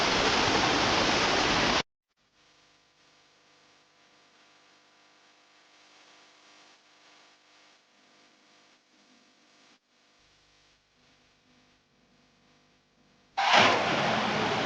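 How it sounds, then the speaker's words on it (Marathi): The Malanggad waterfall roars as a loud, dense broadband rush at the start and again at the end, with a long, near-silent stretch in between. "गाईज पाहू शकता इथेच धबधबा आहे."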